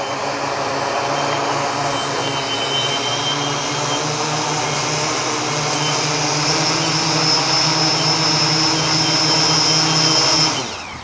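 Electric motor of an FPV radio-control wingsuit straining at full power during a takeoff attempt, a steady loud whine with high buzzing overtones that holds for about ten seconds, then cuts off abruptly.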